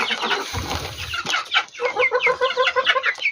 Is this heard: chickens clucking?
yes